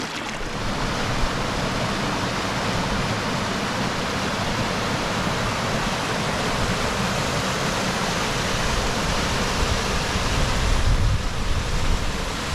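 A waterfall on the East Dart river pours in a steady, loud, broadband rush heard close by, unbroken and without voices for the whole stretch.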